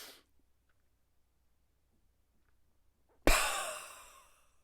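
A sharp breath is pushed out through pressed lips during a breathing exercise, a sudden loud rush of air that fades over a second, after a quiet pause.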